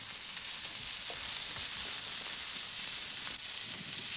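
Sausages simmer in sauce in a pan, giving a steady, close bubbling sizzle with soft hiss that holds at an even level throughout, with no talking.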